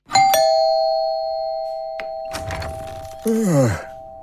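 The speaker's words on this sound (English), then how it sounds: "I went up to apartment 27 and rang the bell." An apartment doorbell chimes once, its tone ringing on and slowly fading, followed by a dull knock and a brief muffled voice.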